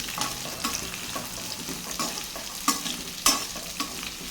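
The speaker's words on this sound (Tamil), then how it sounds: "இதையும் சேர்த்துட்டு நல்லா வதக்கி விட்டுக்கலாம்" Chopped onion sautéing in a pan for coriander rice, with a steady low sizzle and scraping stirring strokes, plus a couple of sharper clinks of the spoon against the pan.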